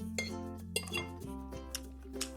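Metal cutlery clinking against dishes as a big rice spoon is picked up at a home meal table, several bright close clinks and knocks in quick succession.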